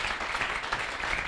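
A church congregation applauds in brief, dense clapping that fills the room evenly at moderate loudness with no pauses.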